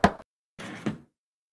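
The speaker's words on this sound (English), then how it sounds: "Could you knock the old one again, just to be sure?" Knocking on a door in the point-and-click game Chaos on Deponia: a sharp double knock, a pause, then a second short burst of knocks, close and fairly quiet.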